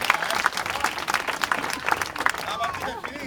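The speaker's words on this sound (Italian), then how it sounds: "facciamoci un bel applauso" A crowd claps at an evening gathering, brisk scattered hand claps filling the air while voices chatter and call out over them throughout.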